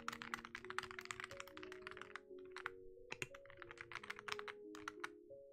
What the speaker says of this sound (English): I love this keyboard.